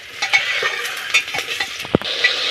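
Onions salted in a pan sizzle softly while a spoon stirs and scrapes, with a sharp clink of metal near the end.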